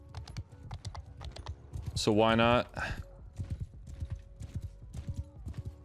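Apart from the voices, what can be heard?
horse hooves galloping, from a video game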